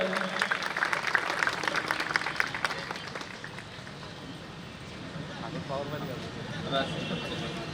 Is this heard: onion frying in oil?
no